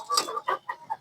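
A large rooster on a terrace garden farm gives several short clucks in quick succession, close and clear, with no talk.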